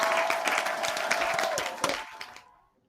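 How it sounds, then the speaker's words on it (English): Applause sound effect played over a livestream music listening party: dense crowd clapping for about two seconds, fairly loud, then tapering off and fading to silence. "Let me give it the applause."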